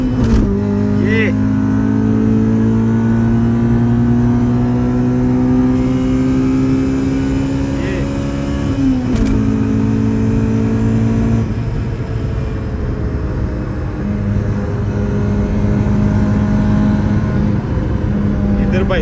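A car fitted with a B16 Type R engine accelerates hard from a standing start, its engine note climbing through the gears with a shift break partway through, heard from inside the cabin with people talking over it.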